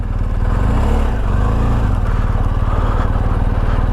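A motorcycle engine drones loud and close while off-roading on a Middle East tour, a steady pulsing thrum with a brief rise in pitch near the first second.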